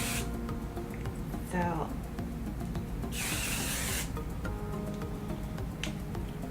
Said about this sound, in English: And then I'm going to take my hairspray, which is Aquage.